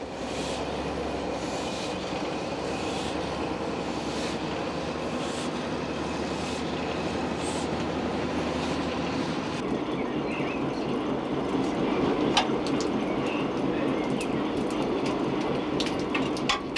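Steam locomotive 413 on a heritage line in the Ardèche, rolling slowly out of its shed with a steady low rumble and continuous rail noise, a faint whistle-like squeal near the end.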